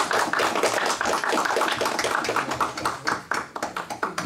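An audience at a French lecture applauding, dense steady clapping from many hands that thins out into scattered, sharper individual claps toward the end.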